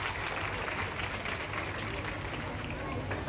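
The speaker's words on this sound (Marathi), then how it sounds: "एकदा जोरदार टाळ्या वाजवतो सर्वांच्या." Dense, steady applause from a crowd at a village Home Minister game-show event, loud and continuous throughout with no pauses.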